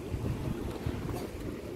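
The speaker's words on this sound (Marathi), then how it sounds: "बोट आलेली आहे, आता इथून दुसऱ्या आयलँडला जाणार आहे" A boat on a lake at Herrenchiemsee, in open water with wind rushing across the microphone and a low steady engine rumble throughout.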